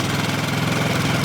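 A motorcycle engine fitted with a speed controller switch idles steadily and close, a continuous low throbbing rumble with a slight knocking pulse and no voices.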